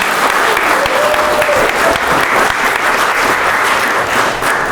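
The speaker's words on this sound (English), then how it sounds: "Give these guys a round of applause for making it." Loud, dense applause from a crowd at a live game-company convention panel, a continuous wash of clapping that holds steady from start to finish.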